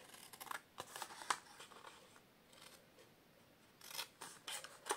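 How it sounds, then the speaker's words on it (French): Scissors snip through paper and cardstock while a gift bag is trimmed, crafted with Stampin' Up products; a run of quick crisp cuts near the start, a quieter pause, then more close snips toward the end, no talking. "there's a little rectangle in the corner, so we're going to cut that away"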